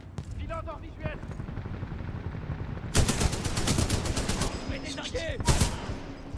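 Automatic weapon fire in the shooter game Titanfall 2, sharp bursts of shots crackling in two clusters amid game effects and background clatter, with voices talking between the volleys.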